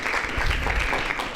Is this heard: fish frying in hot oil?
no